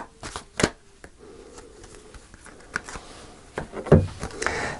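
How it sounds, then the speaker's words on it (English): Tarot cards are shuffled and pulled from a deck in a quick series of soft riffles and taps, close and fairly quiet, with a few sharper card snaps. "I'm going to pull a card for the Lovers."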